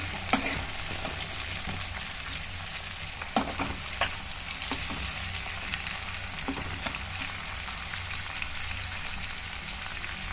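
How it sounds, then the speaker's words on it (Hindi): Tomatoes fry in a pan with a soft, continuous sizzle and scattered small pops and taps, a fairly quiet cooking sound with no talking. "इसके साथ टमाटर भून लेती हूँ"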